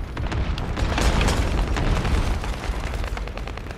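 Rockets firing and exploding in a shooter video game, a dense run of loud booming blasts and bursts rolling one into another, no talk over them.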